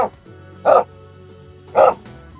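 Two short, loud dog barks about a second apart, each sharp and punchy over a low, steady background hum.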